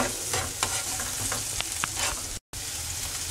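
Chopped garlic sizzles in hot oil in a pan while being stirred for mung bean stew with bagnet, a dense close crackle broken by scraping spoon strokes, with a brief dropout near the end.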